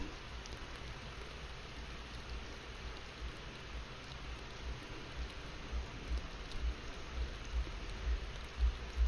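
Steady rain falls in the fishing video game Fishing Planet, a continuous even patter with low rumbling beneath, moderately quiet and unbroken, with no voices.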